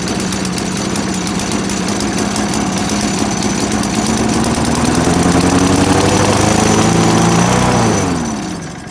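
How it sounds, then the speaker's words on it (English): A small Craftsman lawn mower with a Tecumseh engine roars loudly nearby, its pitch climbing as it revs to full throttle before dropping off at the end; the engine has a faulty carburetor jet and surges to full throttle. "it just keeps going to full throttle for whatever reason"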